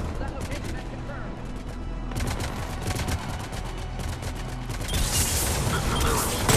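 Enemy gunfire in the video game Mass Effect 3, dense bursts of rapid shots and fusillades layered over a continuous busy battle mix, growing louder and harsher toward the end, with voices mixed in.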